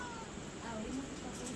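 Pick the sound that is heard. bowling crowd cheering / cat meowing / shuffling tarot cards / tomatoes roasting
cat meowing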